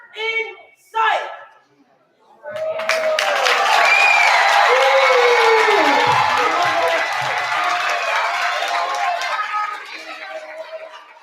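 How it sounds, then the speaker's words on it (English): An audience claps and cheers after an eighth grade performance at a Black History Month program, a full sustained burst of applause with shouts rising over it, following a few brief spoken words. "Please give them another hand clap."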